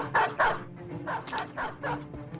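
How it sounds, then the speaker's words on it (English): A dog in the video game Battle Brothers barks in a run of sharp, loud yaps and whimpery yips, several bursts spaced unevenly over a couple of seconds amid battle ambience. "there's the other dog"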